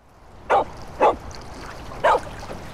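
A dog in the Kayak VR video game barks four times in short, evenly spaced yaps, fairly loud and close, over quiet background ambience.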